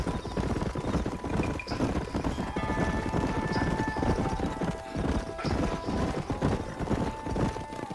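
Horses clip-clop at a steady trot in the Western video game Red Dead Redemption, dense hoofbeats running the whole time with an occasional whinny over a busy background.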